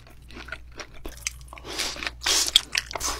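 Close, crisp bites and wet chewing of raw yellowtail (amberjack) sashimi back meat in a seafood eating session, a run of irregular crunchy smacks and squishes that grow louder toward the end, with no talking.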